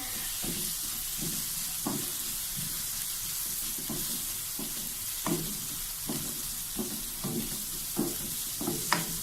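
Onion with carrot, capsicum and cabbage sautéing in a hot pan for chicken chow mein, a steady sizzle under repeated scraping stirs of a spatula, close and moderately loud with no talking.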